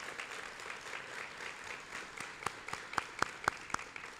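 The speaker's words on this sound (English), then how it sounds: "Can we please give him a round of applause?" A seated audience applauds Lieutenant White at a Portsmouth Public Schools State of the Schools event, steady soft clapping that swells into a few sharper, louder claps near the end, fairly quiet overall.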